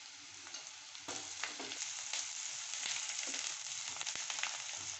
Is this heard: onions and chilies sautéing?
yes